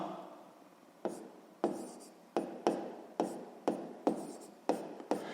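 Chalk or pen writing out a sixth-grade math solution, a series of short scratchy strokes, about ten of them in an uneven rhythm, close and fairly quiet with no voice over them.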